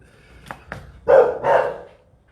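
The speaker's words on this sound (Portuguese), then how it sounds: "Ana Paula, dá um jeito nesse cachorro aí, minha filha. Tá latindo aí, igual um doido." A dog barking nearby during a live stream: two short sharp yips followed by two louder, fuller barks, fairly close and clear with little else around them.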